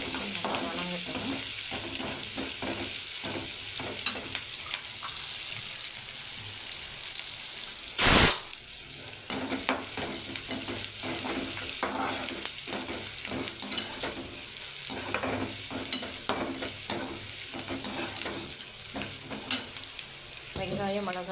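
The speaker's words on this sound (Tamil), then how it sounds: "வெங்காயம் மிளகாய் கொஞ்சம் நல்லா வதங்கிடுச்சு" Onions and chillies sauté in a pan for a drumstick-leaf poriyal, producing a constant dense sizzle with steady stirring scrapes and one short loud burst partway through.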